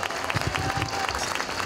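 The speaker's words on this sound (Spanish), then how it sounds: "¡Fuerte el aplauso para nuestra diputada!" Applause for a deputy fills a political event hall, a dense burst of clapping from a crowd lasting the whole short moment.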